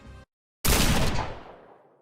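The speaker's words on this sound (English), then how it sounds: "seconds away from being shot by a firing squad when he was pardoned" A firing-squad volley rings out as one loud, near burst of massed gunshots after a brief silence, then trails off in a long echoing decay.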